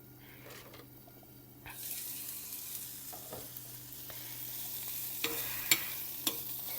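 Ramen noodles boiling in a pot at home, a soft continuous bubbling hiss that swells after a couple of seconds, with a few light clinks and taps over the steady simmer.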